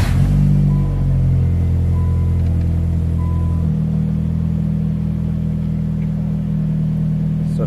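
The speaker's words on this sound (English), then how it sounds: "I'm gonna go ahead and turn on the car as well" A car engine running at idle, a loud, steady low hum with a deep throbbing rumble that shifts pitch partway through, along with a few faint short electronic beeps early on.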